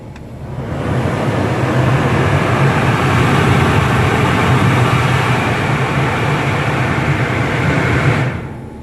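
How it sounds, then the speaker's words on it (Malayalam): The AC blower fan in a Honda City car runs at full speed during a self-diagnostic test, giving a loud, steady rushing whoosh of air that swells in, holds evenly for several seconds, then fades out. "ഇപ്പോൾ ഫാനിൻ്റെ സൗണ്ടാണ് കേട്ടോ, ഫാൻ ഫുൾ സ്പീഡ് വർക്ക് ചെയ്യണതും"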